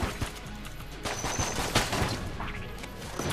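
Rapid, dense gunfire from the video game Enter the Gungeon, with overlapping shots, impacts and small blasts forming a loud, continuous barrage that runs throughout, close and with no talking over it.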